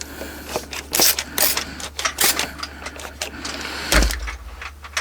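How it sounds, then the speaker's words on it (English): A spray bottle mists coffee onto paper in a series of quick, sharp hissing bursts, several spaced irregularly, loud and close, over a low mechanical hum. "I'm just going to spray that with a bit of coffee."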